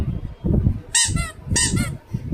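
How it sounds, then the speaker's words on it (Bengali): A pet bird gives two loud, harsh honking calls close by, each lasting about half a second, over a low rumble of background noise. "পাখি ডাকছে।"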